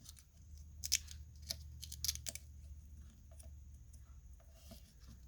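Scissors snip through paper for an envelope pocket craft, a few crisp close cuts bunched early, then quieter trimming, with no talking.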